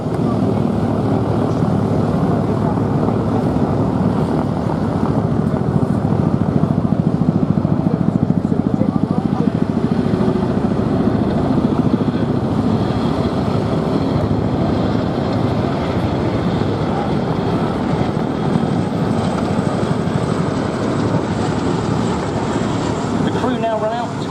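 Loud, continuous rotor blade slap from a nearby RAF Chinook helicopter at an air festival, a heavy throbbing thump with a low rumble, steady throughout.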